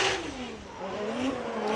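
A TMS Racing Team Good Ride BMW E92 drift car at a Formula Drift Japan event, its engine holding a loud, steady tone that sags and then climbs again as the throttle shifts mid-drift.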